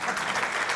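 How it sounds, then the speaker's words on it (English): Brief burst of audience clapping at an opioid summit in St. Louis, a dense, even patter of many hands lasting under a second. "Yeah, go ahead and clap."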